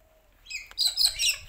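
Small birds chirp and tweet close by near a cactus pot during repotting, a few short bright calls in quick succession.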